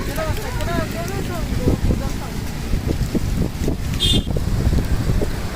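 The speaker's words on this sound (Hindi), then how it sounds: "काफी तेज हवा चलने लग गई है" Strong gusting wind from Cyclone Tauktae buffets a street in Mumbai, roaring steadily against the microphone with continuous rumbling noise and a brief voice early on.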